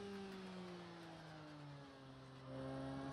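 A damaged car engine in a racing video game drones at a rough, uneven pitch, held fairly steady before a slight rise near the end, faint and alone.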